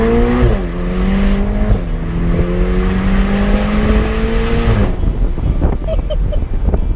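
A Ferrari Portofino's engine and exhaust pull hard while driving, the tone climbing steadily through shifts, then the throttle lifts and the exhaust breaks into rough, crackling burbles.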